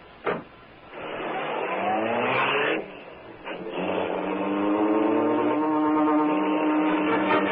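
Car driving off in a Green Hornet radio drama: a door thump, then an engine starting and revving, which drops briefly before a steady, loud accelerating drone carries on to the end.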